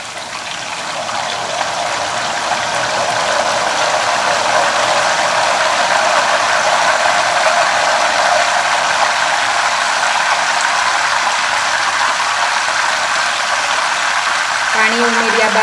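Salted water spooned into hot oil while frying potato wafers, giving a loud, steady bubbling crackle that holds for the whole stretch without pause.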